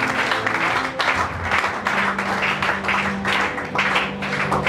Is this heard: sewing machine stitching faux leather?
no